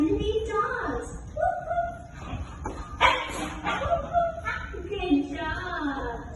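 Voices imitating a dog barking in a playful pretend game with a baby, giving a string of short yipping woofs and whimper-like calls mixed with speech, close and fairly loud.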